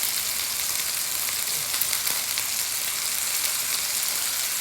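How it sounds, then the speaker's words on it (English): Ribeye steaks searing in a hot pan give a steady, loud, hissing sizzle that fills the whole stretch without pause, close up and with no speech over it. "Those are going to sear."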